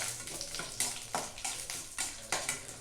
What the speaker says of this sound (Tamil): அது நல்லா பொரிஞ்ச உடனே வெங்காயத்தை அதில் சேர்த்துக்கலாம்